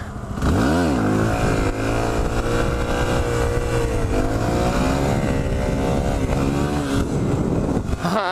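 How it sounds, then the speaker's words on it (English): A motorcycle engine revs hard and steadily as the rider lifts into a wheelie, the pitch climbing and wavering for several seconds, loud and close with no talking. "Alright, here, I'll do a wheelie."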